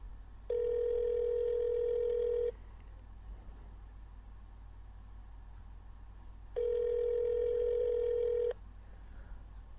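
A telephone ringback tone on an unanswered call sounds as two long, steady buzzing rings about two seconds each, separated by a roughly four-second gap of quiet line hiss, with no talking.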